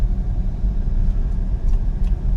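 Cadillac XT6 with GM's 3.6 liter V6 engine running, a steady low rumbling drone heard from inside the car with no talk.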